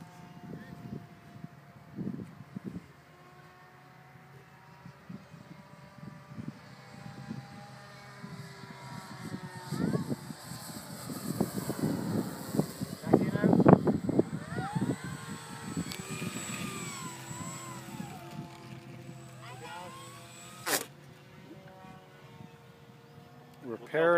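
A quarter-scale model clipped-wing Cub airplane makes a low pass at a flying field, its engine drone swelling to a peak midway and then fading, heard under nearby talk and wind.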